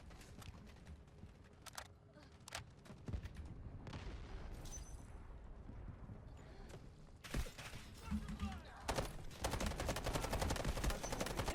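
Glock pistol fire in the Delta Force video game, a rapid run of sharp shots over steady game noise with bursts of other gunfire, no talk.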